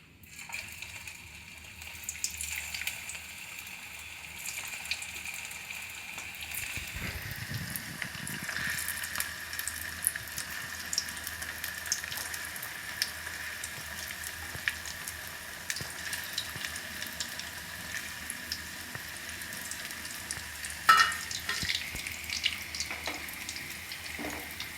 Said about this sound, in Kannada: ಇವಾಗ ಬಿಡ್ತಿದ್ದೀನಿ ಎಣ್ಣೆಗೆ.